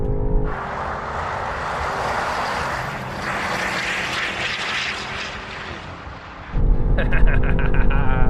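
A BMW SUV races side by side with other SUVs, older models against supercar SUVs, in a rolling drag race at full throttle, a loud sustained engine roar that swells and surges near the end.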